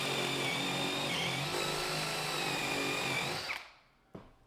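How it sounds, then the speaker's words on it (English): A power drill whines steadily at close range for several seconds while drilling a hole in an interior door, then spins down and stops, followed by a brief knock. "So let's go ahead and drill that hole."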